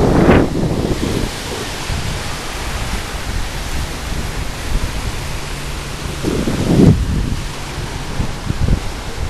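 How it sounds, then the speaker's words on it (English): Ocean waves wash onto the sand at Miramar Beach, a steady broadband surf roar with wind buffeting the microphone and two louder breaking swells, one at the start and one about two-thirds through. "We are down on the beach in Miramar"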